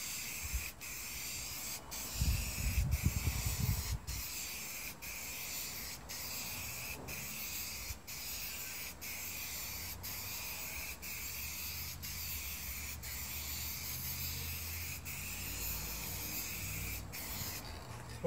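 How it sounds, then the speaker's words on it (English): Short bursts of aerosol spray paint hiss at an even pace, laying a light coat during a shuttle bus RV conversion, with a brief rubbing scrape early on, in a quiet room. "I'm not spraying for coverage here"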